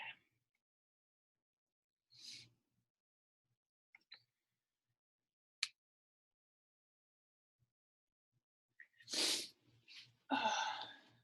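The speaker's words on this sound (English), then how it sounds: "Oh my gosh, I'm gonna sneeze" A woman sneezes twice in quick succession, sharp and close, near the end after a long quiet stretch with a few small breaths and sniffs.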